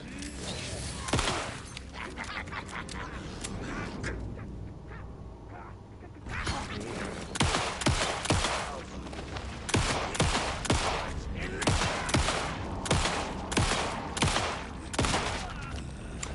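Rapid bursts of gunfire while shooting an enemy in the horror video game Alan Wake 2, loud, repeated volleys after a brief lull, with game sounds around them.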